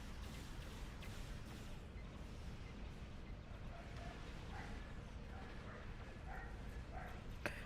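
Dogs bark faintly and intermittently in another room, the muffled yaps scattered through the second half beneath a steady, hissy indoor background.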